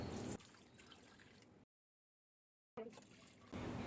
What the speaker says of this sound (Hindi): अब इसमें ऐड करेंगे 3 गिलास पानी।